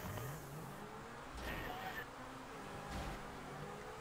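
A Lamborghini-style Infernus sports car driving in GTA, its engine a low, steady drone with two brief whooshing swells as it speeds along, fairly faint.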